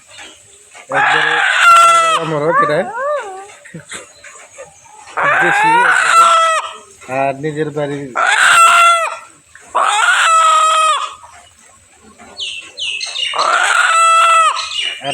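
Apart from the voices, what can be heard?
domestic chicken clucking and crowing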